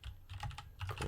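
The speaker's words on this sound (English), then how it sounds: "we'll type it first" Quick, close typing on a computer keyboard, a rapid run of light clicking keystrokes with short pauses.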